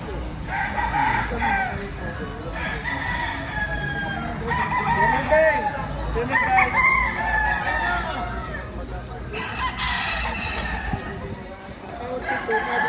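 A rooster crows several times at a chicken seller's yard in Batangas, mixed with other fowl clucking and steady background chatter as people talk nearby.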